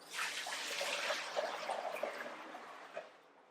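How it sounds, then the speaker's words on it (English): Leftover water poured out of the chamber of a Berkey gravity water filter, a steady close trickle and splash that runs for a few seconds and then tapers away. "Now we're going to discard just a little bit remaining water in here."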